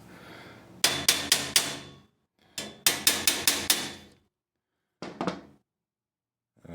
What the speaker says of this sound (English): I even need to hammer in this piece, the second one I put in.